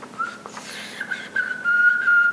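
A person whistles a few short, wavering notes, close and clear, with slight pitch slides and breathy gaps.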